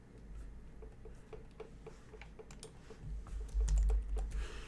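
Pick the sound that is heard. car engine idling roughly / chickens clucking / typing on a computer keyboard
typing on a computer keyboard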